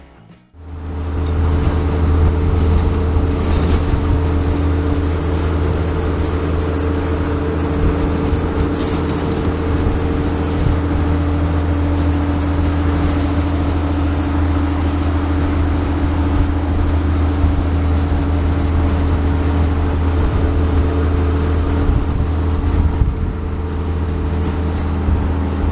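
A 1966 Chevrolet van drives along with a steady, droning engine hum and constant road rumble inside the cabin, starting up at the beginning and holding an even, loud level to the end.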